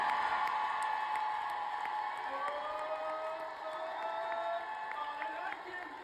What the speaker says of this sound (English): They then went to the audience vote to cheer for it.